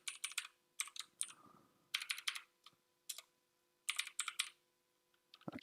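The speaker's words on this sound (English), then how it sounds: "actually I'll just type it in." Keys clatter on a computer keyboard in quick bursts separated by short pauses, close and clear in a quiet room.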